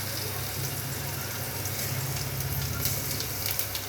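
Crushed garlic, mustard seeds and cumin sizzling in hot oil in a heated pot for a Konkani-style curd kadhi tempering, a steady close crackling hiss with faint low hum beneath.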